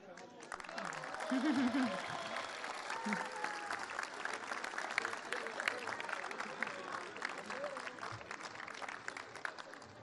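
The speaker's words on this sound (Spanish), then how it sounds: "el presidente sonrió y comenzó a aplaudir para continuar con el evento" A crowd at an event held at the Uxmal archaeological zone breaks into applause after a short circuit. The sustained clapping fills the whole stretch, with voices talking underneath.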